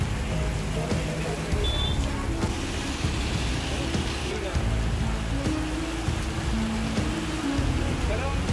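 Heavy rain pours during a storm with thunder and wind in Sagar, India, making a dense, steady roaring hiss that stays loud throughout, with a voice and some tonal sounds running over it.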